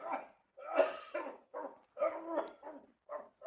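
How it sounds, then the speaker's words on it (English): A series of hoarse, barking coughs in uneven bursts, fairly close, with brief pauses between them and no talking. "I heard him cough. Did you hear that cough?"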